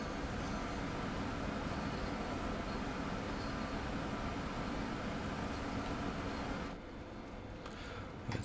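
Siemens Vectron electric locomotive coasting in Train Sim World 4 during heavy rain: a steady, dense rolling rumble with rail noise that carries on evenly, then thins and softens slightly near the end.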